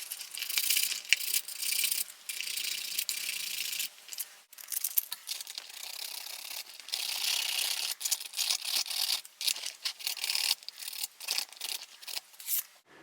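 Hand rubbing clean the wheels of a model railway locomotive, close, faint scratchy scrubbing in irregular bursts with small rattles and brief pauses.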